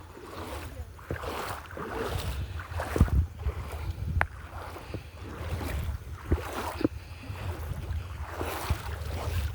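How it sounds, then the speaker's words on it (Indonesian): River water flows steadily at a cold-water bathing spot in Koto Japang, Solok Selatan, as a continuous broadband rushing wash with small splashes, close and even throughout. "Ini aliran sungai ya."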